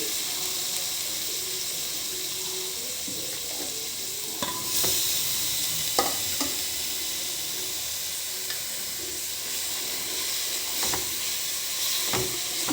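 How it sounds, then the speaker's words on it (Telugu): Grated amla sizzles and fries steadily in a few spoonfuls of oil in a pan, with a constant hiss and occasional clinks and stirring scrapes, close and alone without talk. "ఇది వేయించుకోవాలి చక్కగా కలర్ మారే వరకు వేయించుకోవాలి"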